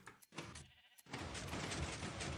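Sheep in Minecraft bleat in a few short, faint calls, followed by a steady low hiss of background game noise, with no voices.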